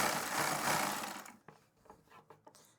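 A sewing machine stitching a suit runs in a steady, loud whirring burst for just over a second, then stops, followed by a few soft handling knocks and rustles of fabric nearby.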